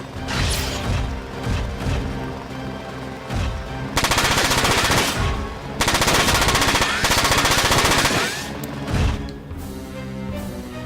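Video game machine-gun fire from Front Mission 4 rattles in loud, rapid sustained bursts, with dense crackling volleys broken by short pauses and crashing impacts over background game sounds, with no talk.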